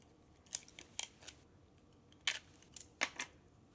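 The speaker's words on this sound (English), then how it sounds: "I'm adding a small piece of tape to the seam" Small pieces of tape are torn and pressed onto the seams of a paper cube, making a string of crisp, close ticks and crackles in irregular clusters with short quiet gaps between them.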